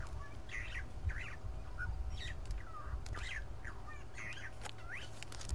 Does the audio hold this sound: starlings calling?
yes